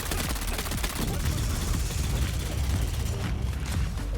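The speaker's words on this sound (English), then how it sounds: "This fires 2 shots at the same time." A rare weapon in the Dune Awakening game fires paired shots in rapid succession, giving a loud, dense run of gunfire bursts with heavy low thumps that continues for several seconds.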